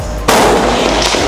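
Single sharp gunshot from a Ruger 10/22 rifle at an outdoor shooting range in Rangsit, a loud crack over steady background noise with no talking.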